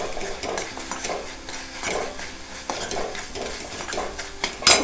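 A spoon scrapes and stirs turmeric and Malvani spice masala in a hot pan for a prawn fry, with steady rhythmic stirring strokes over a soft sizzle, close and moderately loud, with a sharp clatter at the very end.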